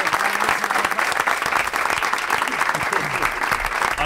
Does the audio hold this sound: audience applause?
yes